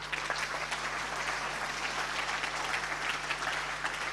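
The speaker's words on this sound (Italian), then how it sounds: "Un applauso per Francesco Bettella." Applause fills the room at a Paralympic sports awards gala in Veneto, an even, sustained crowd clapping heard without speech.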